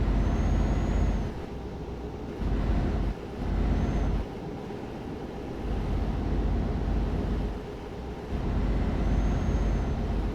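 A car braking on a motorway descent during a Milan to Sofia drive, with loud, steady road and engine rumble that dips and swells in a few long stretches.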